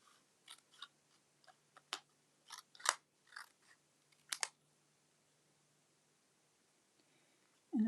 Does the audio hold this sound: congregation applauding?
no